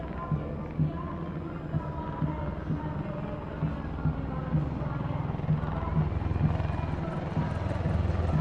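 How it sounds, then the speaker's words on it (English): Apache attack helicopters fly overhead in formation at a Republic Day parade, their rotors thumping in a rapid, regular beat over a broad roar that grows slightly louder, with a commentator and crowd audible underneath. "And now flying is the Garud formation, a powerful display of indomitable spirit of our Apache attack helicopters"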